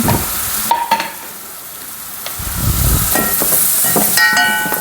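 Masala with turmeric frying and being stirred in a pan for a coconut-milk fish curry, a loud steady sizzle broken by scraping stirs and a few clinks of the spoon, with no talking.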